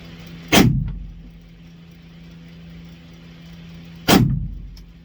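Two loud gunshots from a handgun at a shooting session ring out about three and a half seconds apart, each a sharp close blast with a short booming tail, over a faint background hum.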